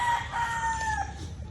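A two-time derby-winning broodcock rooster crows once, a loud, close, drawn-out call with a falling end, heard alone.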